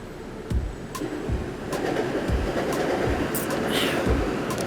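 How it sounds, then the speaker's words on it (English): A train passing in Bangkok gives a steady, close rumble with rhythmic low thuds from the wheels, and faint bird calls are scattered above it. "Just like clockwork. There's the train."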